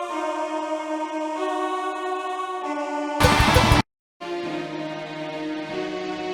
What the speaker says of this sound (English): Then we have some keyboard tracks.